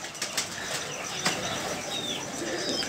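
Pet pigeons flapping their wings close by, quick fluttering bursts with scattered soft coos and chirps over a low background hum.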